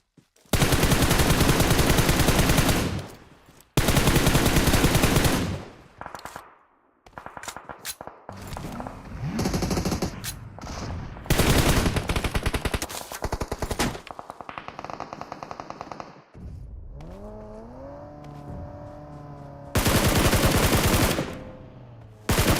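Heavy gunfire in PUBG during an esports match, long loud sustained bursts of automatic fire broken by shorter volleys and single shots, with gaps of quieter game sound between them.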